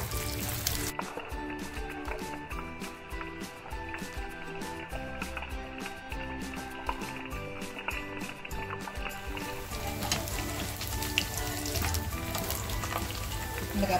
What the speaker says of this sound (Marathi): एक एक वडी टाकते आणि आपण छान याला खरपूस तळून घेऊया.